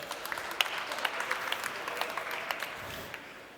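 Audience at a conference talk on big tech breaks into steady applause, a dense patter of many hands clapping together at moderate distance, then gradually tapering off.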